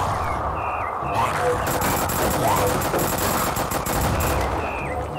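Gunfire in the Zombies VR shooter, a dense, loud stretch of rapid shots with a spoken voice in between, mixed with game music and chatter.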